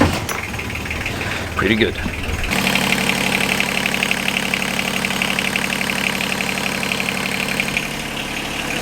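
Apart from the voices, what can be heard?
car engine starting and idling after head gasket change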